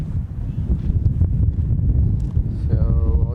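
Wind gusting outdoors at an airfield, a constant low roaring buffet across the microphone with brief rises, loud and close throughout, with faint mechanical tones near the end.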